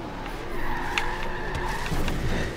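Tires squeal and scrub as a track car drifts through a turn in Forza Horizon 3, the steady engine drone and screech holding loud and close for a couple of seconds with no talking.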